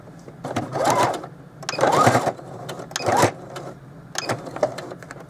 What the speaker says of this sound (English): I am going to backstitch this one